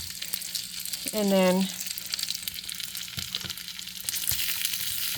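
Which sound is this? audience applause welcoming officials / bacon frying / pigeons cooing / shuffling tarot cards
bacon frying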